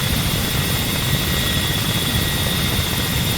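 Ka-50 Black Shark helicopter rotor from a flight simulator game: a steady, continuous rotor and engine drone with dense low chop, loud and unchanging throughout with no talk.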